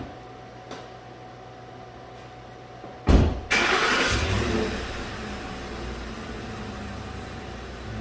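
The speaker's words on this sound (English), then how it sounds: "Start the engine." A 2010 Ford F150 engine cranks and starts in a garage with a sudden loud catch, then settles into a steady idle that eases slightly down, following a quiet background hum.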